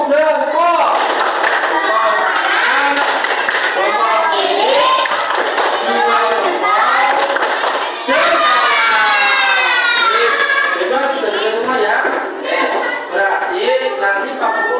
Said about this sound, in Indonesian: Mari kita lakukan tepuk jempol untuk kita semua.